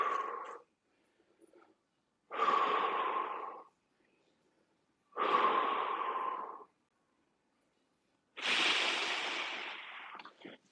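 Slow, deep breaths taken while holding a stretch during a body weight warmup, four long airy inhales and exhales spaced by pauses, close and clear with no talking.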